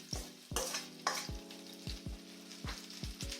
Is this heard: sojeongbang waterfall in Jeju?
no